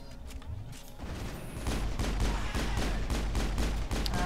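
Rapid gunfire in a shooter video game, a dense stream of sharp repeated shots that grows louder about midway and then holds steady.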